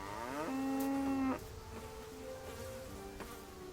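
A cow in the video game Kingdom Come: Deliverance gives one long, loud moo, followed by fainter, shorter lowing sounds and a faint buzzing in the background.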